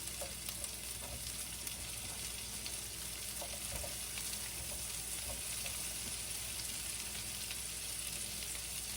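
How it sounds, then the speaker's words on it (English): Sliced onions sizzle steadily in melting butter in a pan, a dense, even frying hiss that continues without a break, with occasional soft clicks from stirring and breaking the onions apart with a spoon. "we're gonna go ahead and put our onions in, because the butter's melting pretty quickly"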